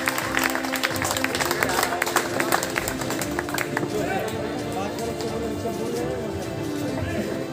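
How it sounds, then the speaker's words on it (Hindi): A seated crowd at a Shahganj Ramlila committee award ceremony claps loudly and continuously to welcome a guest, a dense rattle of many hands with a brief sharper start, sustained across several seconds. "सम्मुख बैठे सभी राम भक्त इनका जोरदार तालियों के साथ स्वागत करेंगे"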